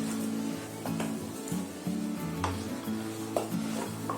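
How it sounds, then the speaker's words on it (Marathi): Rice being stirred through vegetables in ghee in a hot pan: a steady sizzle under repeated spoon scrapes and clinks against the pan, close and continuous, with no talking. "आता आपल्याला जरा ढवळून घ्यायचं पूर्ण भाजीमध्ये"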